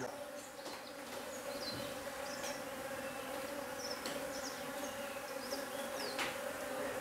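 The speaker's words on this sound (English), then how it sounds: "If you hear that humming, there's a load of bees inside the building." A low, steady drone of many bees humming together inside a building, with individual buzzes passing nearby and faint chirps in the background, in Addo, Eastern Cape.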